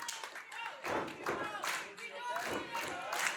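Wrestling crowd in the Impact Zone cheering and clapping during a TNA iMPACT match, a dense continuous roar of applause and shouts that swells in waves, with commentary voices running over it.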